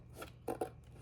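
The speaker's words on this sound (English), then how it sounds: "I just take my scissors, clean these up a little bit" A few quick, quiet snips and rasps of scissors trimming the edges of a handmade journal, two sharper cuts close together in the middle over a low background hum.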